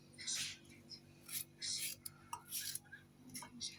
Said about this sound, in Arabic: البطاطا ديالي غنقطع طريفات صغار